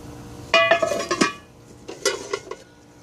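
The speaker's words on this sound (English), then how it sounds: "This is an old Erie. It's an awesome pan." An old Erie cast iron pan is handled, with a cluster of loud metallic clanks and scrapes, a short pause, then a second, softer burst of clinks.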